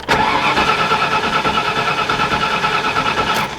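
A Ford Galaxie's engine cranks over without firing, a steady loud mechanical churning that runs unbroken for several seconds, alone with no voices.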